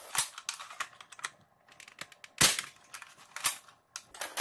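A Nerf Longshot blaster fitted with a Jet Blaster Omni kit shoots darts, giving sharp close snaps and clicks in an uneven cluster with a louder pop near the middle, with no talking.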